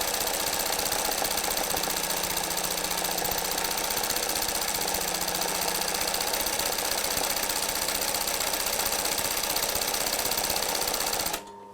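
An industrial sewing machine runs at a steady, fast rate, its mechanical whir and needle clatter continuous and close for about eleven seconds before stopping abruptly.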